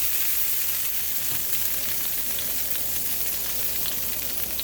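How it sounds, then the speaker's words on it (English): Butter and oil melting together in a hot pan, a loud, steady close-up sizzle with fine crackling spatter and no voices. "we got some butter melting with some oil in there"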